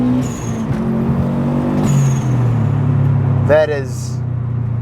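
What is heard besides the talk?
1996 Subaru WRX STi engine revving to 8,000 RPM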